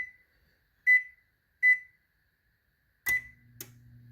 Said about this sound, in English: we're gonna start our oven first, get it preheated to 400